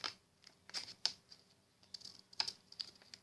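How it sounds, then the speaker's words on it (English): Scissors snipping through paper while cutting the edges for a folded paper boat, a series of sharp, crisp cuts in an irregular rhythm, close and fairly quiet. "You use your scissors and you cut it."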